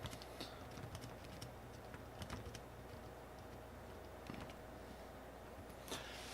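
Keys tapped on a compact 13.3-inch laptop keyboard, a quiet scatter of light clicks in short uneven bursts over a steady low background hum.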